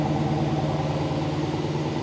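A Dodge Challenger SRT Demon 170 muscle car with dual exhaust idles with a deep, steady, pulsing rumble, close and continuous with no talk.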